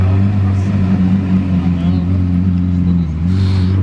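A deep, throaty Lamborghini Aventador SV engine with a modified exhaust rumbles loudly and steadily, its exhaust droning with a brief rise in roar near the end.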